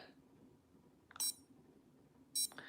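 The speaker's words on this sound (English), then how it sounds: "you'll just turn the thing on. It makes a little beep noise" Digital device being switched on, a unit with a small display and modes such as burst, normal and modulation, giving two short high beeps about a second apart over quiet background hiss.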